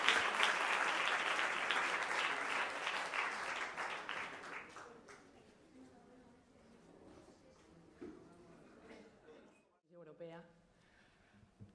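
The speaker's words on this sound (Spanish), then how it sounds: "Un fuerte aplauso." Audience applause after a panel at a public policy event, dense clapping for about four seconds that fades out, followed by faint room noise and a short spoken voice near the end.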